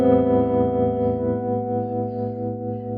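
Electric guitar played through a Boss Katana Go headphone amp on a vintage Fender preset, a sustained chord ringing with rich harmonics that shifts to a lower held chord, with no talking over it.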